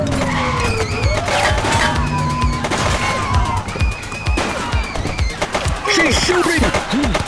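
Gunfire in a police game set on city streets, rapid sharp bursts crackling over car engines and tire skids, loud and close, with voices speaking at intervals.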